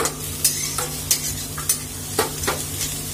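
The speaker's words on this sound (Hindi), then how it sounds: "ओह प्याज जल रहे हो, हटो, प्याज चलाना पड़ेगा मेरे को।" Onions frying in a pan sizzle steadily while a utensil stirs them, giving sharp scraping strokes at an irregular rhythm.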